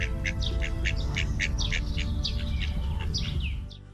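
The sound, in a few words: birds calling at an exotic animal farm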